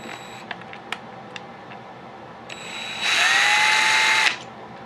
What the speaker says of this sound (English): And I drill into the bag to try to catch the chips